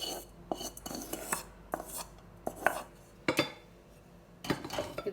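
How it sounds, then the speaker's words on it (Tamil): Dried chillies pounded for sambal in a stone mortar with a pestle: irregular, sharp thuds and knocks, some in quick pairs, close and fairly loud with quiet gaps between strikes. "இப்போ சம்பல் அடிக்க போகிறேன். நான் உரலில் தான் அடிக்கிறேன்."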